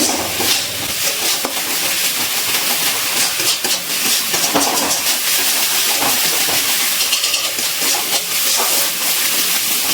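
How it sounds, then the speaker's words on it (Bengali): Spice paste fries in a pan with a continuous bright sizzle and hiss, steady and close, with small crackling bursts throughout. "আর একবার কষিয়ে নিচ্ছি মশলাটা"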